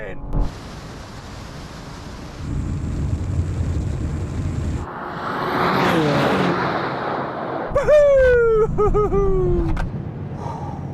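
A BMW M2 G87 and a BMW XM accelerating in a drag race, a loud surging engine roar that builds and sweeps past, with people talking before and after.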